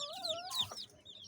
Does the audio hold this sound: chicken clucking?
yes